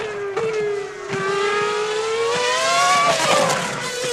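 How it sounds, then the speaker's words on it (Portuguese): A Formula 1 car at the 2006 French Grand Prix qualifying screams past up close, its high engine note climbing steadily through the gears, loud and alone with no voices. "E aí você vai vendo o Heidfeld com esse carro estranho"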